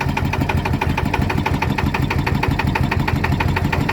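A Yanmar engine runs at a steady idle with a fast, even thumping knock, loud and close, alone without voices.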